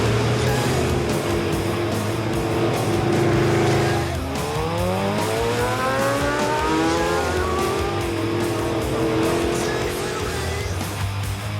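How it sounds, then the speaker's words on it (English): Classic American cars with V8 engines rev and roar loudly with continuous engine noise, tire squeal and a rising pitch sweep in the middle, busy street ambience throughout. "V8 American engines."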